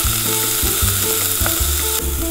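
Garlic and soy sauce sizzle loudly in a hot pan for a shrimp udon dish, a constant crackling hiss broken by repeated low scraping and stirring strokes.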